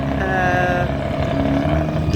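Powerful motorboat engine pushing slowly into a port at about three knots, a steady, rumbling drone with tonal hum, moderately close and continuous without letup.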